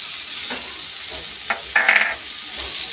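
Garlic and bay leaf frying in foaming oil, a soft sizzle with scraping stirs, brief utensil clinks against the pan and one louder hiss midway.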